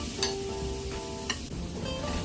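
Onions being stirred with turmeric and chili powder in a hot pan for a long bean and prawn thoran, soft sizzling with a couple of sharp utensil clinks and scrapes against the pan.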